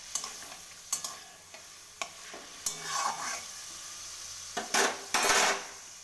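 Paneer cubes frying in hot oil, turned lightly on both sides: a soft sizzle under a series of distinct metallic clinks and scrapes of a spatula against the pan, ending in a louder burst of stirring.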